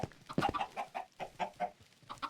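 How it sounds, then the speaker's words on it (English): Chickens on a chicken farm in Minecraft Bedrock, a quick run of close, repeated clucks in an uneven rhythm with no voices over them. "Don't like that there's so many chickens down there."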